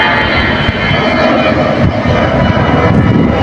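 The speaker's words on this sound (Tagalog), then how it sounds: "Tapos may dumadang aeroplano." A fixed-wing airplane passes overhead at night in a Philippine yard with solar Christmas lights, its steady broadband engine roar loud and continuous throughout with little variation.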